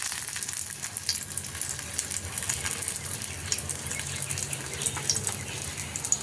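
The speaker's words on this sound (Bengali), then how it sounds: "এটা এখন আমি এই গ্যাসের মধ্যে তেল বসিয়েছি চাটুতে, এর মধ্যে দিয়ে দিলাম।" Egg wrapped in pumpkin leaf frying in oil on a flat griddle over a gas flame, a steady dense sizzle with crackling pops that holds for the whole stretch, with no voices.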